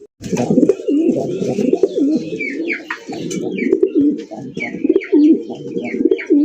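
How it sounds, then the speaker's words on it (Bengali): Black Lahori pigeons coo repeatedly in a close, steady series of throaty calls, with a few higher chirps from other birds mixed in and no talk. "ব্ল্যাক কালারের লাহোরি কবুতর দেখতেই পাচ্ছেন"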